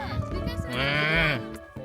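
Alpaca gives a single nasal, wavering bleat lasting about a second, close by, with faint voices talking around it.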